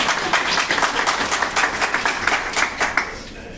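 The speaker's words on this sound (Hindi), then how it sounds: "इसके लिए सब अपने लिए तालियां बजाएं।" Audience members clapping for themselves at a gathering, a loud and slightly uneven round of claps with distinct individual hand strikes standing out, tapering a little toward the end, with no voices.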